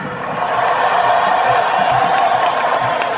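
A large crowd at a concert at Forest Hills Stadium cheers and applauds continuously, with whoops and clapping throughout, loud and sustained.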